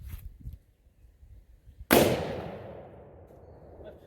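A 12 gauge double barrel shotgun fires a round loaded with an AA battery: one sharp, loud blast that rings out and decays over about two seconds after quiet rustling outdoors.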